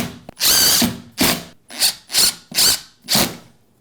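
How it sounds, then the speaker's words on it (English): A power drill drives screws into a pocket door frame bracket in six or seven short, close bursts, each whirring up and stopping with a brief pause between them. "I'm gonna put these screws in now"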